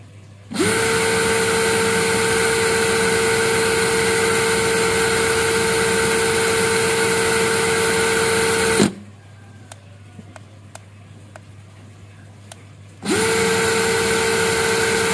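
A cordless drill runs flat out at maximum speed, a loud steady high whine lasting about eight seconds, then stops for a few seconds of quiet with faint clicks before spinning up again.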